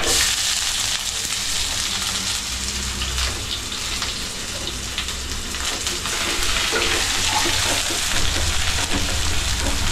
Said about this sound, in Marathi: जिरा चांगला तडतडला की त्याच्यामध्ये आपल्याला कांदा टाकायचा आहे